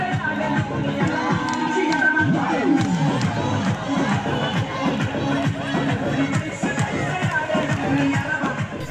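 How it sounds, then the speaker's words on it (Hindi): A large crowd of villagers at a dance celebration in Jharkhand roars and cheers continuously, loud and close, with shouting voices and children's cries piling over one another throughout. "उस नाच गाने पर झूमने के लिए ग्रामीणों की भारी भीड़ जुटी हुई है"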